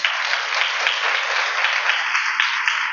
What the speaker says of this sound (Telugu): క్లాప్స్ కొట్టాలా, గట్టిగా